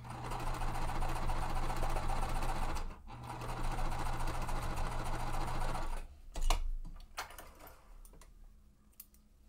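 A sewing machine runs steadily, stitching aligned quilt pieces for a Tree of Life quilt, a continuous close whirring for about six seconds that pauses briefly, then stops, followed by a few light clicks and handling sounds.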